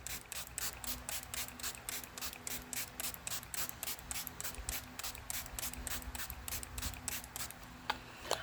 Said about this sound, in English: I'm going to spray my face with my Milani.